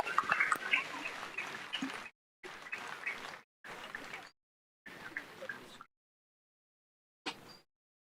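An audience at the centenary celebration ceremony of the Sri Ramakrishna Ashrama claps loudly in several separate bursts, each lasting a second or two, with short silences between them and a final brief round.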